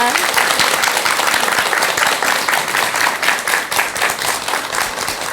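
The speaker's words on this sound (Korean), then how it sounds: "좋은 말씀 해주신 스님께 큰 박수 부탁드립니다" Sustained audience applause for a monk after his Buddhist dharma talk at a temple mountain concert, dense and steady throughout, loud and close.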